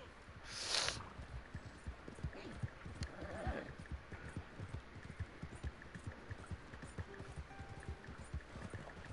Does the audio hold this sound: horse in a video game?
yes